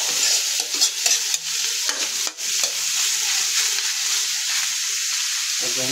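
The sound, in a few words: frying alamang shrimp paste with pork mask until crispy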